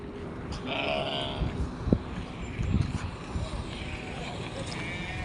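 Goats at a livestock market before Eid sacrifice bleat faintly a couple of times against a busy background, while people talk nearby.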